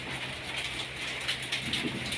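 Steady rain hisses continuously, a dense broadband patter with a low rumble underneath, no voices present.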